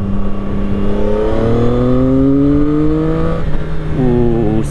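A CF Moto 675 SR-R motorcycle engine revs up close and loud, its pitch climbing smoothly and steadily. A brief dip follows, then it rises again, with a more tuneful tone arriving around 6000 rpm.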